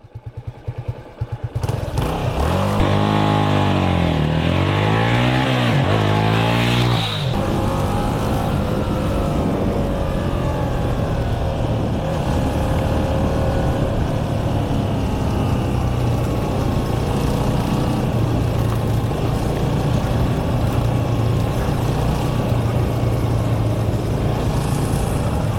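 A 1987 Yamaha SRX 250 single-cylinder motorcycle revs through rising and falling gear changes as it passes close by, then settles into a long, steady engine drone outdoors.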